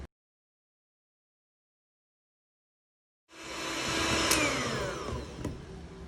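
Electric mixer beating cake batter with baking powder and vanilla: silence, then the motor whirs up and runs as a steady loud drone with a rising whine and some scraping against the bowl.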